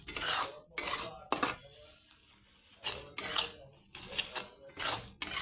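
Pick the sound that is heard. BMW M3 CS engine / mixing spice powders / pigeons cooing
mixing spice powders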